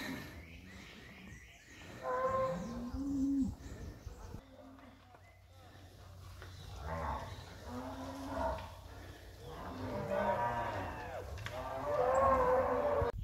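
A herd of cattle coming down a hill, with repeated deep, drawn-out moos from several animals at varying distances, someone talking at times over them.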